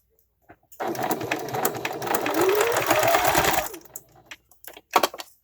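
A sewing machine stitches a fabric face mask, its needle running in a steady continuous whir for about three seconds, then stopping, followed by a few faint handling clicks close by.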